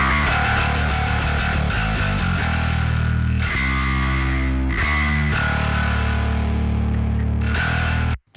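A heavily distorted bass guitar, EQ'd with boosted 1 kHz, plays a gritty, loud riff of sustained low notes with a buzzing midrange edge, cutting off abruptly at the end.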